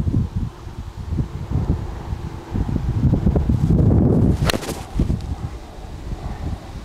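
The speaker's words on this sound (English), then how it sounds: "Because there's a strong wind in our face here." Strong wind on a golf course buffets the microphone in a continuous low rumble, swelling and easing in gusts, with a brief rustle partway through and no speech.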